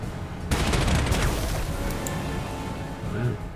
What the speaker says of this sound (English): I see we've been taking fire here.